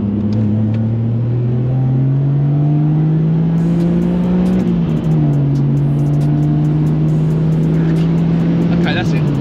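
A supercharged 570bhp BMW E46 M3 pulls hard in third gear, its loud engine note climbing steadily and continuously from inside the car, with a brief dip at a shift-like break midway.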